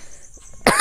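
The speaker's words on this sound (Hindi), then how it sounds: "ये खांसी आ गया हमको" A single sharp cough from smoke bursts out near the end, close and loud, after a quiet stretch.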